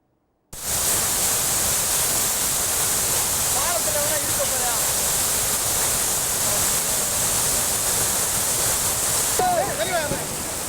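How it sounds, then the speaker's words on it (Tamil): Megamalai waterfall in Theni district in flood after heavy rain, a loud, unbroken roar of rushing water that starts abruptly and stays steady throughout, with brief voices faintly in the background. "தேனி மாவட்டம் மேகமலை அருவியில் நேற்று மாலை திடீரென வெள்ளப்பெருக்கு ஏற்பட்டது"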